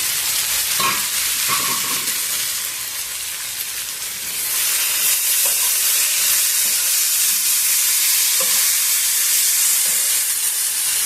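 Brinjal curry with flaxseed powder sizzles and steams steadily in a pan over medium heat, a loud continuous frying hiss with occasional soft stirring clicks throughout.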